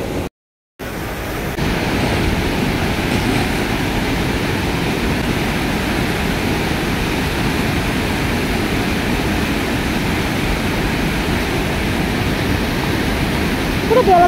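River water rushes steadily at the confluence of two rivers, the Devnadi and Shivnadi, beside a hilltop Mahadev temple, a loud continuous broadband roar after a brief silent gap at the start.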